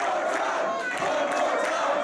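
A wrestling crowd at a Limitless Wrestling event roars and cheers continuously, loud and dense, with shouting voices blended into the din.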